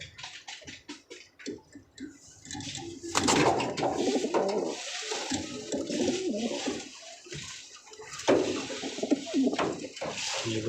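Domestic pigeons coo repeatedly and close up, their throaty rolling calls overlapping with wing flutters and light splashing water, steady and fairly loud throughout with no speech.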